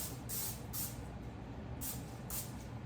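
Cooking spray hisses from a can onto a baking sheet in four short bursts, two near the start and two near the end, under low kitchen room noise while oatmeal cookies are being made.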